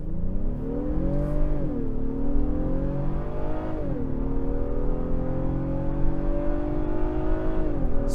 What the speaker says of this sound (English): Smooth engine, dear goodness.